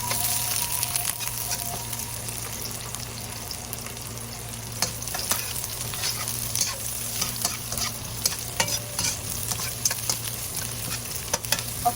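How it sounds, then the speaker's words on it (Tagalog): Garlic and onion sizzle steadily in a pan for ginisang toge with tofu, with an even frying hiss and frequent short clicks and scrapes from stirring throughout. "mag-gisa na po tayo ng bawang. Sunod na po natin ang sibuyas."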